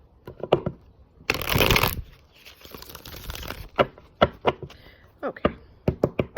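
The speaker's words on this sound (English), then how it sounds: "Okay, here we go. Last shuffle." Tarot cards are shuffled in a quick dense riffle, then tapped and squared with a run of sharp close knocks and crisp paper snaps.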